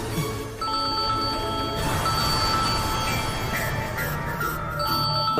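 A telephone rings with repeated electronic tones over a room's background noise, the ringing steady and fairly close.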